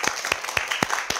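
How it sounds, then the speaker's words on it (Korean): Scattered clapping from a small group gathered at a holiday gathering for people living with cancer, a handful of sharp claps landing at an uneven pace over a soft background. "자, 우리 박수 한번 쳐주세요."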